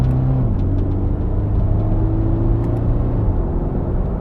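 A 2020 Toyota 86 Hakone Edition's engine revs with stepped pitch changes as it is downshifted on plastic paddle shifters, close and steady with no talk.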